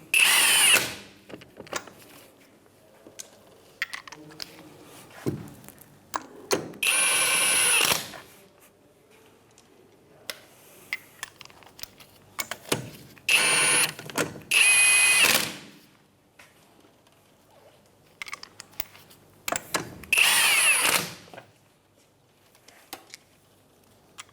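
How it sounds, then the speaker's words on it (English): A power tool with a 17mm socket runs lug nuts onto the rear wheel of a 2007-2013 Mitsubishi Outlander, several short loud near whirring bursts with pauses and clicks between them. "Get the lug nuts started."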